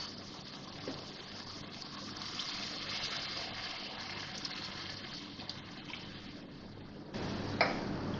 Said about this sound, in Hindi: अब मैं इसमें थोड़ा सा पानी डालूंगी कि आलू गल जाएं